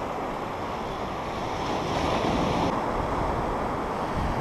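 Ocean surf rolling onto a beach on the Outer Banks during shark fishing, a steady broadband wash with a swell building around the middle, mixed with some wind noise on the microphone and no talking.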